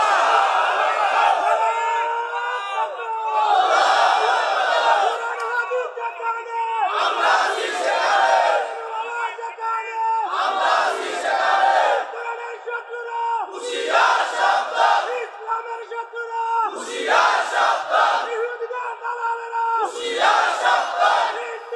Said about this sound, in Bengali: একটু হাত উঁচু করে একটু তাকবীর দেন।